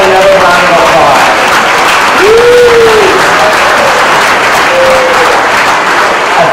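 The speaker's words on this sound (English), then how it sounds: "Let's have another round of applause." Loud, dense applause from a school Christmas concert audience, a continuous roar of clapping with voices calling out and cheering over it throughout.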